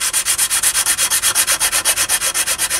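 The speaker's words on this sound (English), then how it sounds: "Right there needs a little more sanding right there." Sanding a B-47 Stratojet scale model by hand, quick regular back-and-forth rasping strokes, about seven per second, close and steady throughout.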